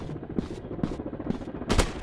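Gunfire in PUBG, an FPS shooting game, comes as single loud shots spaced about half a second apart, ending in a heavier, louder blast, with no talking.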